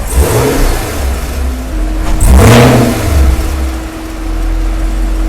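2021 Chevrolet Camaro LT1 V8 with its exhaust in loud mode, revving hard in a few close, loud surges that rise and fall between idle rumble.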